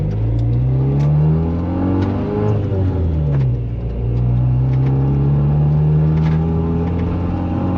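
Car revving and pulling away in snow, a loud, close engine rising and falling in pitch through gear changes with a steady rumbling drive, no talk.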